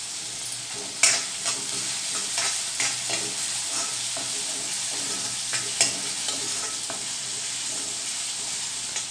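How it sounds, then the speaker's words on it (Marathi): Onion cooking in a pan over a full gas flame, a continuous bright sizzle with a couple of louder spatula knocks and regular stirring scrapes throughout. "गॅसची फ्लेम फुल आहे, फुलवर शिजवत आहे मी।"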